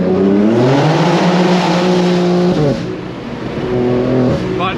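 A car engine drones loudly and steadily through the gears as it drives, with pitch climbing and dropping at shift points and a brief lull before revving again, close and dominant.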